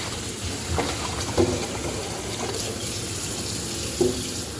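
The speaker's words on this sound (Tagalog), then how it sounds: "Hugasan ko guys itong malaking isda." Running water from a tap pours steadily over a large yellowfin tuna being washed, with a few soft knocks and splashes as it is handled.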